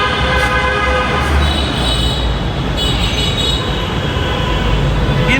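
A metro rail train runs past close by in a loud, continuous rumble, with high wheel squeals and ringing metallic tones layered over the roar throughout.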